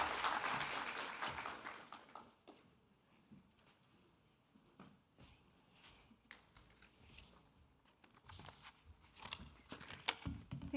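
Scattered applause at a BSBI university graduation ceremony in January 2024, starting fuller and fading to sparse, uneven claps before swelling again near the end, heard at a moderate distance in a large hall.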